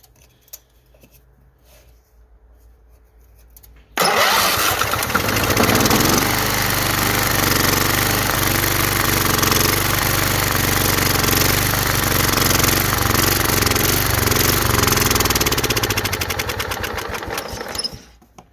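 Kohler 14HP engine on a Toro Proline walk-behind mower with a 44-inch deck cranks after a quiet stretch, then roars loudly and close for about thirteen seconds before dying down with the fuel shut off.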